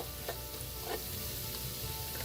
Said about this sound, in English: You don't want your powders to burn. You want to cook them gently for about a minute